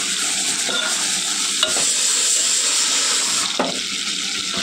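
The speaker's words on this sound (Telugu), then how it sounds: "ఇక్కడ టమాటా ఎర్రగడ్డ కూడా వేగిపోతా ఉందన్నమాట" Chopped tomatoes and onions fry in a pan with a loud, continuous hissing sizzle, broken by a few soft scrapes as they are stirred.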